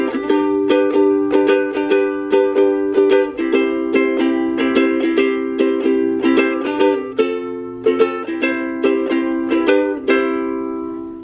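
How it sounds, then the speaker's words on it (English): A small soprano ukulele strummed and plucked in a steady rhythm of bright, close chords, each attack ringing briefly before the next, played alone with no voice over it. "This is the soprano ukulele."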